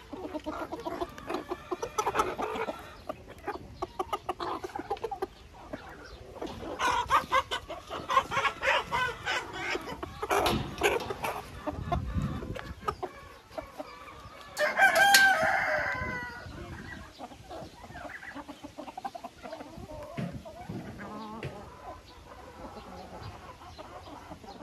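Hens cluck and a rooster crows inside a backyard coop, with scattered bird calls and rustling throughout and a louder burst of crowing partway through, all close and fairly busy.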